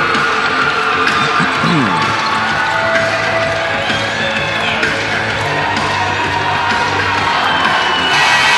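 A very large afternoon crowd fills an arena at a high school girls' state basketball quarterfinal, cheering and shouting loudly and continuously, with ball bounces and squeaks mixed into the dense roar.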